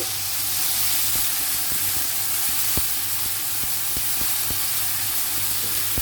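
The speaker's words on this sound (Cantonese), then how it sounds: "我而家倒埋啲汁落去， 先至俾水。" Sauce is poured into eggplant braising in a pan. It makes a loud, steady sizzle and steam hiss, broken by light, irregular utensil taps.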